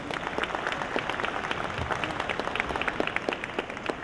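Audience at a congress panel applauds warmly as a speaker is introduced, a dense, continuous wash of many hands clapping at moderate volume, with no talking over it.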